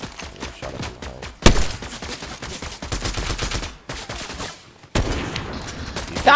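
Gunshots in the video game Fortnite during a duos match: loud automatic bursts and single cracks in rapid clusters, with sudden sharp onsets and brief gaps between volleys.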